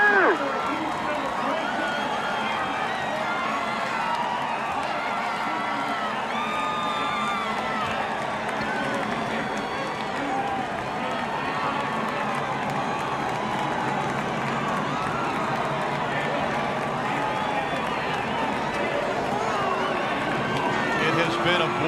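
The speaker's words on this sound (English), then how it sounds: "It has been a boisterous crowd." A boisterous crowd at a NASCAR race cheering and roaring continuously, a dense, loud wash of voices with a commentator talking over it throughout.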